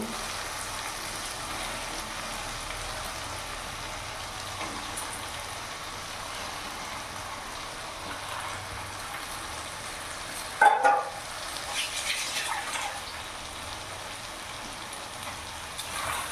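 Marinated chicken frying in a pan gives a steady, even sizzle throughout, broken once by a sharp clank and rustle as the pieces are stirred.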